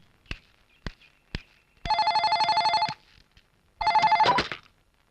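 An indoor telephone rings in two long electronic trills, close and clear, after a few sharp knocks or footsteps in a quiet room.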